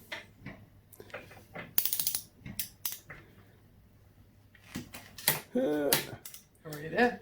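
A torque wrench ratchets as it tightens the footpeg mount bolts on a DR200 motorcycle, giving close, sharp clicking bursts in several separate runs, with faint background noise between them.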